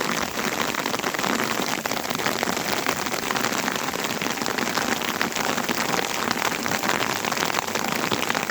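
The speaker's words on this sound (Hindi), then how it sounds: "बारिश और ओले के बीच जो है हम धीरे धीरे आगे बढ़ रहे हैं।" Rain and hail come down on a high mountain trail, a dense, unbroken patter of drops and pellets striking the ground and surfaces close by, loud and even from start to finish with no voices.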